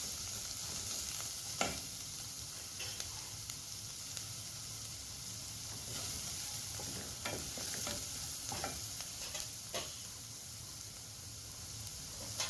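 Chopped onion, ginger, garlic and finely cut curry leaves sauté in a pan, giving a steady close sizzle of frying with intermittent stirring scrapes and clatters throughout, no talking.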